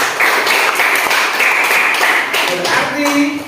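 A classroom audience at a teaching exam gives a few seconds of brisk, dense clapping, near and fairly loud, with a voice coming in faintly toward the end.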